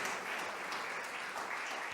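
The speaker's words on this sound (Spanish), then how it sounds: "un aplauso a la madre y a la hija que vienen del sur de Tenerife" An audience at a church sermon gives continuous, even clapping that fills the whole moment at a moderate level.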